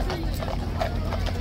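A large police horse's hooves clip-clop steadily on a hard street surface, heard under continuous talking.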